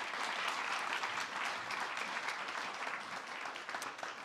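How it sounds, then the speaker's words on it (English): Sustained applause from a conference audience for a panel of speakers, an even wash of many hands clapping at moderate distance with no talk over it. "This is your applause."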